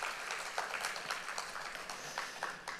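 Korean church congregation applauding the choir during Sunday worship, a brief burst of close, even clapping from many hands, sustained and fairly loud with no talk on top.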